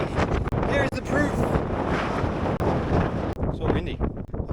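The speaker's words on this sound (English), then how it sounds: "So windy." Strong gale-force wind on a mountain peak buffets the microphone in heavy, roaring gusts with brief dropouts, while a voice speaks briefly through it.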